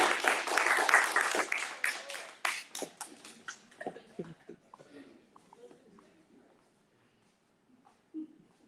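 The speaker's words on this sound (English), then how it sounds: "Please clap for" Audience applause at a dance team pinning ceremony, loud at first and steadily thinning into scattered claps before fading out, with a brief late burst and some voices underneath.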